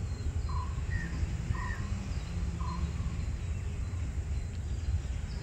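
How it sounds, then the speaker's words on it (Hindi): Birds calling outdoors in Bangalore, heard as a few short, clear chirps repeated at intervals over a steady hum of insects and background noise. "सुनिए परिंदे की आवाज़, वो भी कह रहा है।"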